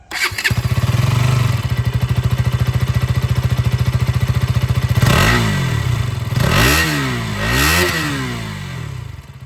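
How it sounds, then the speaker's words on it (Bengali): A 2026 KTM Duke 200 single-cylinder motorcycle idles with a loud, steady exhaust thump, then is revved several times in quick rising and falling bursts, close to the microphone. "আপনাদেরকে আমি এক্সস্ট সাউন্ডটাও শুনিয়ে দিই।"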